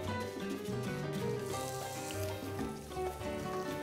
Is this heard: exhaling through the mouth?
no